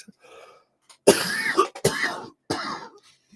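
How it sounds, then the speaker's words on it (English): Several close, harsh coughs in quick succession, with short pauses between them and a softer breathy sound at the start. "So I will cough every once in a while."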